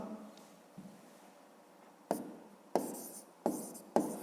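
Pen writing by hand on paper while working a fifth-grade maths answer: faint scratching strokes, then four sharp taps or quick strokes spaced about half a second apart, close and quiet with no talk.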